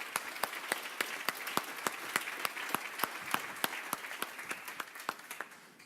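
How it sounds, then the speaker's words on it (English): A summit audience claps in a fairly thin round of applause, individual sharp claps standing out clearly at a moderate level before gradually tapering off. "Let's give it an applause."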